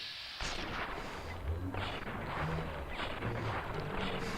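Gunfire in Fallout: New Vegas during a heavy fight near Nipton, a dense run of booming shots and rumbling impacts that keeps going almost without a break after a short quiet start.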